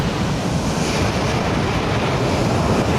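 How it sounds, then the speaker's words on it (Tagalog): Rough sea waves crash on the shore in a continuous loud roar, with gusting wind buffeting the microphone throughout. "Napaka-wild talaga ng dagat dito oh. Grabe guys, ang lalaki talaga. Talagang bubugbugin tayo ng alon."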